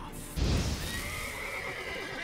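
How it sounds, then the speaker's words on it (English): A horse in the video game Witcher 3: The Wild Hunt Next Gen lets out a loud, close whinny over a thud of hooves, followed by a fading, wavering tail. "Now I can kill the horse"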